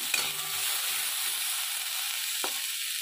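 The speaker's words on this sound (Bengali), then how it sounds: "সেদ্ধটা আমার বেগুনটা হয়ে গেছে, ভাজাটা আমি আরেকটু ভেজে নেবো" Eggplant fries in oil in a pan with a steady, dense sizzle close up. A utensil scrapes near the start, and a single tap or clink sounds near the end.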